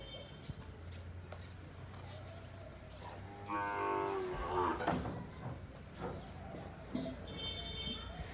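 A Punganur cow moos from inside a vehicle, a single drawn-out low call rising in the middle of the clip over steady background noise and faint voices.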